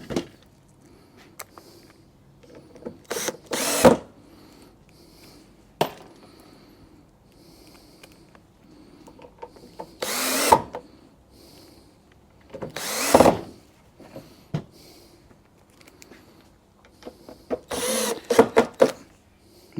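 Power drill driving screws into a pond fitting, several short loud bursts of whirring spaced apart, with quieter handling clicks between them.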